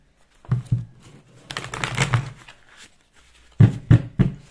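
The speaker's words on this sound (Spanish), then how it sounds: "Bueno, vamos a comenzar a barajar." Tarot cards shuffled by hand in a few bursts: soft riffling and tapping, with sharper slaps of the deck near the end, close and moderately loud with no talking.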